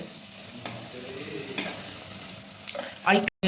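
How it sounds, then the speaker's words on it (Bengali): Pitha rice cakes frying in oil give a steady crackling sizzle throughout, with a louder burst of bubbling and clatter near the end before a brief cutoff. "এই যে পিঠাগুলো ভাজা হচ্ছে"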